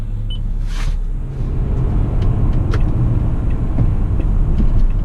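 A 2013 Toyota Camry XLE V6 cruises onto a freeway, giving a steady low road rumble and engine hum from inside the cabin that builds slightly toward the end, with no one speaking.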